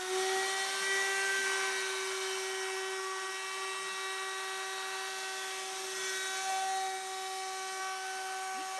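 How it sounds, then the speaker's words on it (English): A countersink bit bores into the fiberglass of a wakeboarding boat, giving a steady high-pitched whine that holds an even tone throughout, with no talking. "I used the countersink bit that I have to bore out the fiberglass a little bit."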